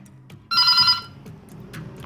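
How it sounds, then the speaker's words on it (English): A Beetel B11 landline telephone gives one loud, bright electronic ring burst lasting about half a second, close up, against a quiet room with faint background noise afterward. "this phone has very loud ring"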